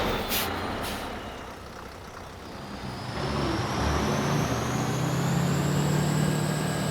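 A large road vehicle, bus or truck, slowing to a stop: two short hissing bursts from air brakes at the start, then a steady engine drone with a rising whine as it settles, close and loud with no speech.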